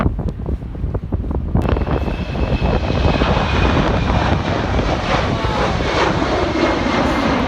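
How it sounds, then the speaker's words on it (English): An Embraer E190 airliner at London City Airport rumbles loudly in strong wind, a continuous heavy engine roar that builds after a moment, mixed with buffeting gusts on the microphone. "Okay, the E190 is now taxiing down to the runway."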